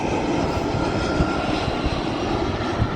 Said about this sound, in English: And he's coming in for a landing.